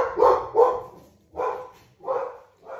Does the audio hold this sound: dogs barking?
yes